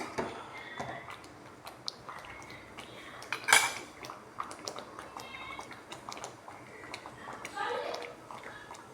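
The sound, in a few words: stirring kesari in a pan with a spoon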